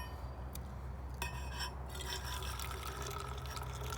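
Brewed coffee poured outdoors from a Stanley all-in-one coffee system, a steady liquid stream filling a cup with light splashing and a brief clink, close and fairly quiet.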